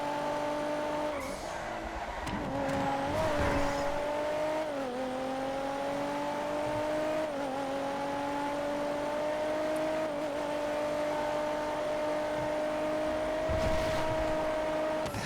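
A sports car in a GTA FiveM race drives hard with a steady, loud engine drone and shifting pitch, with tire squeal and skidding on corners and brief bursts of impact noise.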